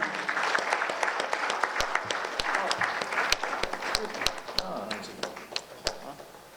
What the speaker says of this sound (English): Give a big round of applause, everyone.